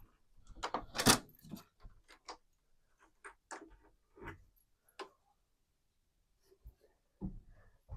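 A locked door at a country cottage plot being unlocked and opened: a series of scattered metallic clicks, rattles and knocks of a key and latch, close and quiet, with gaps between.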